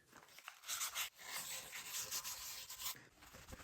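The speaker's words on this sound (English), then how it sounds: "I'm using this 320 grit sandpaper because I need to remove all of the silicone from the sink." Fine 320 grit sandpaper is rubbed over a sink to strip old silicone. The scratchy strokes are steady and close but fairly quiet, with a brief pause near the start.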